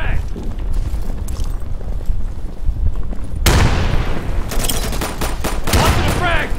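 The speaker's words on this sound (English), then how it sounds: "I'm throwing a frag." A frag grenade thrown and exploding in the game Insurgency, a loud sudden blast midway through amid ongoing bursts of gunfire, with voices talking over the combat noise.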